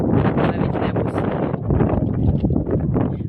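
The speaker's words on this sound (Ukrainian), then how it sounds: "Вітер і таке піднялась пиляка" Strong wind buffets the microphone in loud, continuous gusts over a vegetable garden, a rough roaring rush raising dust, with no other sounds standing out.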